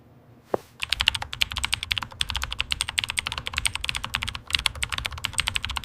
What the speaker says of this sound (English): Okay, I'm typing it up now.